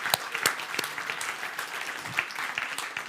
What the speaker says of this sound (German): Applaus der Worship-Band bitte auch nochmal kommen